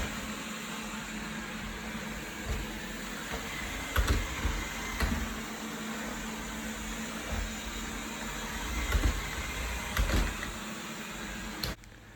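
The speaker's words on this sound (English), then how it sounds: "the Wyze Vacuum is actually pretty loud compared to some of the vacuum I've tried" A Wyze lidar robot vacuum runs on tile and wood floors. Its motor gives a steady, fairly loud whir, with a few brief bumps and clicks along the way.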